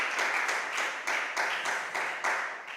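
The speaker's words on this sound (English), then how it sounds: "A big round of applause for the final gift from Carmen" Applause at a food gift presentation event, a crowd clapping steadily with rhythmic swells, moderately loud and alone without speech.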